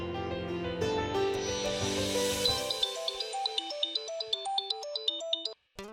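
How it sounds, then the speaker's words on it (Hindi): A mobile phone ringtone plays a repeating melodic electronic tune, loud and close, starting over a low hum and continuing alone with steady rhythmic notes before cutting off abruptly. "नंबर देते ही फोन आ गया।"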